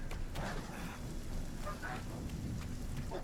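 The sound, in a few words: thunderstorm with rain and lightning in the video game RuneScape: Dragonwilds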